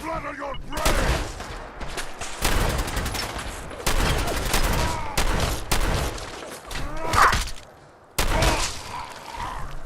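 Shotgun blasts in Sim Settlements 2, a string of loud, close booming shots spaced a second or two apart, each with a short ringing tail, some voice in between.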